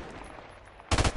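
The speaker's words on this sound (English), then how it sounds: "I'm just shooting corners." Gunfire in Call of Duty: Modern Warfare Remastered: a sudden loud burst of rapid automatic shots cuts in near the end after quiet game ambience.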